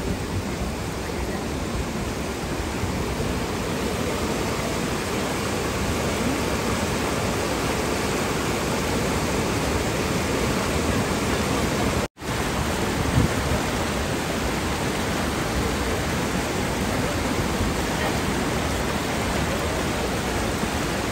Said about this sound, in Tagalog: Kumbaga, dumaan yung ilog dito sa kalsada.